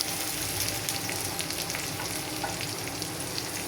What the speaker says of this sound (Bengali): এগুলোকে মেখে নিয়ে এখন ভেজে নেব শুটকিগুলো।